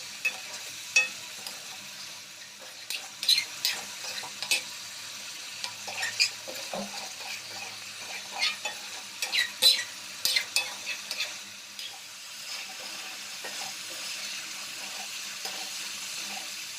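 Quiet sizzling of egg curry in a pan with intermittent scraping and stirring clicks, close and soft, no voices.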